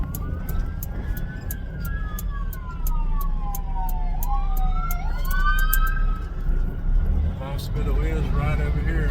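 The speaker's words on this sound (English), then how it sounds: "Here comes the ambulance." An ambulance siren wails and sweeps in pitch as it passes near a hospital, rising and falling over traffic rumble, while someone talks over it.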